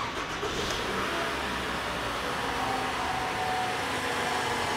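A customer's car with a VVT-i system idles steadily in a repair shop, its exhaust connected to an extraction hose. A constant, even engine hum and whoosh continues throughout without any pause or change.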